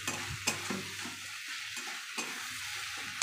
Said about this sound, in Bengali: কস্তুরি মেথিটা দিয়ে দেখুন হালকা হালকা করে নাড়িয়ে নিচ্ছি